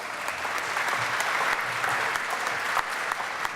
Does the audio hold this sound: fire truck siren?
no